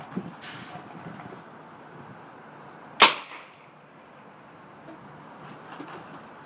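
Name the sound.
Tippmann Project Salvo paintball marker firing without suppressor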